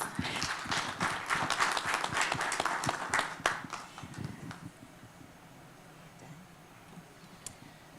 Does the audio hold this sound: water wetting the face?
no